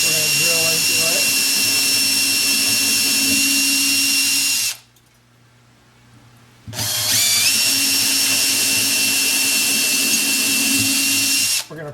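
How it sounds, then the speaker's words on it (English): A power drill whines loudly and steadily drilling into wood, stops for about two seconds, then starts again and runs continuously, close by. "we're going to drill into it"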